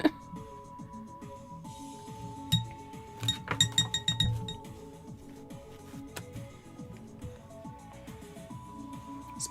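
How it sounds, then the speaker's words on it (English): A fountain pen nib rinsed in a glass of water, giving a cluster of light glassy clinks and taps against the rim in the middle, quiet and close, alone without talk. "Time to rinse my nib."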